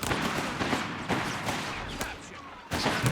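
Machine-gun fire in Company of Heroes 3, a World War II strategy game: bursts of gunshots and battle noise in repeated sharp volleys over a dense background of combat sound, with no talking.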